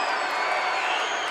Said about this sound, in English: You hear the round of applause for Hannah